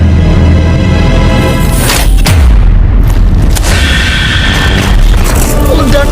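A deep, booming explosion in a Mobile Legends game cinematic rumbles loudly with heavy low-end, followed by crackling debris and lingering roar, with a voice speaking over the chaos.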